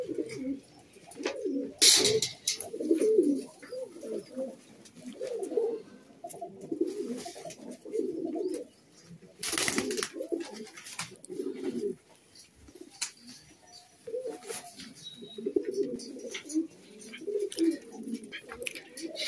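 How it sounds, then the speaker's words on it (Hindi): Kalsire pigeons coo steadily at close range, soft repeated low rolling calls overlapping in an irregular rhythm, with occasional brief rustles and flutters between them. "ये देखो जी, ये एक और कबूतर का हम आप लोगों को शौक करवा रहे हैं"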